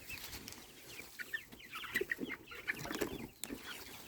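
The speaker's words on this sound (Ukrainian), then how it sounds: "Зараз будемо їх годувати." Several domestic chickens cluck and chirp softly nearby, scattered little calls overlapping against a quiet garden background.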